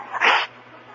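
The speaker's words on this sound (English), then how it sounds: "Who sneezed?" A single sneeze performed in an old-time radio comedy show, one short burst that rises and fades within half a second, close and fairly loud against a quiet background.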